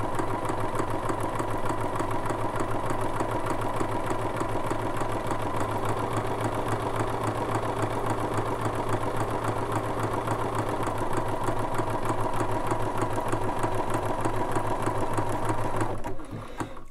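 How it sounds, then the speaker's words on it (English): A Bernina sewing machine with a #3 buttonhole foot runs a satin stitch for a buttonhole, a loud, fast, even mechanical whirr close up that continues without pause before stopping abruptly at the end. "we're going to start stitching. And the very first thing it's going to do is do a satin stitch down the left hand side."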